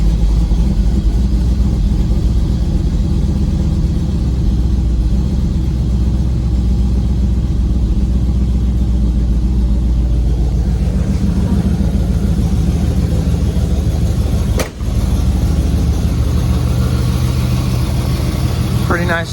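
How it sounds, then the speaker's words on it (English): 383 stroker engine in a Squarebody truck with Holley Sniper EFI, idling steadily with a deep rumble close by, revs dropping slightly partway, one sharp click near the end, and someone talking over it. "It starts up, revs up a little bit, then returns to like normal idle"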